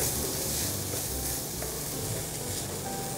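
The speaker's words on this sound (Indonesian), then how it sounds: "Kita aduk rata lagi." Minced crispy fried meat is stirred in a hot pan, giving a steady close sizzle with soft scraping and stirring noises throughout.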